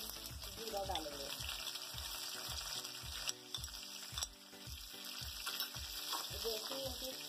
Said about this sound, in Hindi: ये कड़ी पत्ता 7-8 तेज रखे हैं मैंने धो के, ये डालेंगे। और इसके साथ ये हम जीरा डालेंगे।